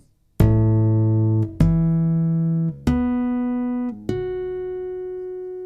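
Four ringing harmonics played one after another on a Chapman Stick through Stickup pickups, each a clean bell-like tone that rings and slowly fades before the next.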